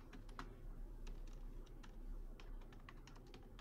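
Quiet laptop keyboard typing while entering a file name for a Daraz shipping label PDF, with irregular soft key clicks in quick bursts over a low steady background hum.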